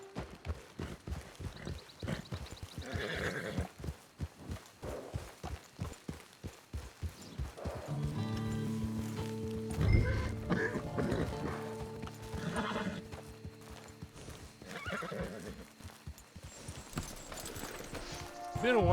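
Horse hooves clip-clop in Red Dead Online, a steady walking rhythm of close, distinct hoof strikes, with a snort or whinny partway through and voices talking over the game sound.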